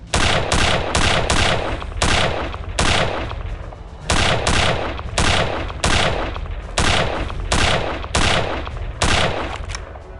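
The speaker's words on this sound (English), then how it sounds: "All these machine guns in the distance" Sustained machine-gun fire from a Return to Castle Wolfenstein battle, loud, dense bursts of rapid shots repeating in clusters across the whole stretch with no talking.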